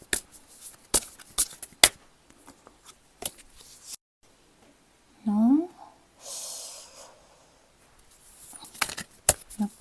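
Tarot cards are shuffled and drawn by hand, with crisp papery flicks and riffles close by. Between the bursts of card sounds there are quiet breaths and a soft vocal hum.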